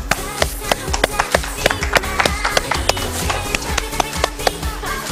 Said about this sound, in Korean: 박수 더 쳐주세요